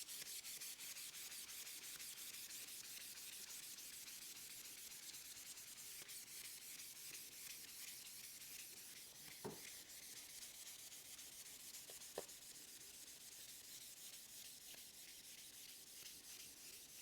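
A bread knife blade is polished on 1000 grit sandpaper in continuous, even back-and-forth rubbing strokes, faint and close-up, with a couple of small clicks near the end and no voices.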